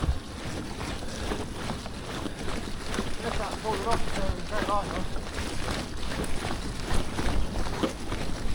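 Gusty wind blowing across the microphone outdoors during a car tyre swap, a constant rumbling buffet with faint voices and background sounds mixed underneath.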